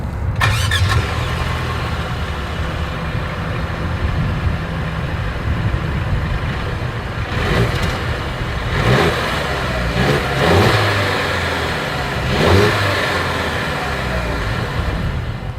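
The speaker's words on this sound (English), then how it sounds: "Here is that exhaust clip." A Mercedes-Benz GLC 300 Coupe engine cranks and fires up, settles into a steady idle, then its exhaust barks through several sharp, loud revs spaced a second or two apart, close to the tailpipe.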